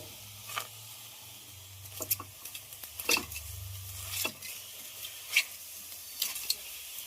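Mutton curry with tomatoes cooks in a pan without any oil, giving a soft, steady sizzle and simmer broken by several scattered clinks and scrapes of a stirring spoon against the pan.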